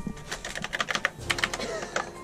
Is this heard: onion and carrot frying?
no